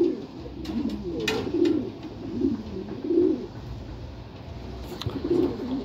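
Pigeons in crates coo in low, soft bursts at close range, with a few brief clicks and shuffles between the calls.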